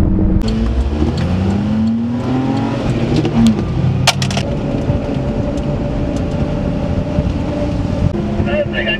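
A small-displacement mini-truck engine runs and revs with a steady droning hum and some rising pitch, close and fairly loud, while people talk over it.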